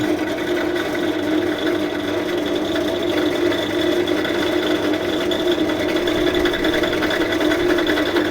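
A 1.5 kW, 3000 rpm electric motor runs on a SkiF 8-tonne rail log splitter, giving a steady, even mechanical whir and hum that stays constant and close throughout with no speech.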